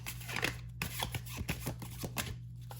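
Tarot cards are shuffled by hand in a quiet room, a run of quick crisp riffles and flicks arriving in uneven bursts, close and clear, with no talking.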